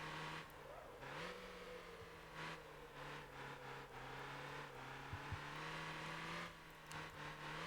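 A sports retro four-cylinder car in Motor Town, its engine droning steadily and rising and falling in pitch as it is driven through turns, loud and continuous with no talk.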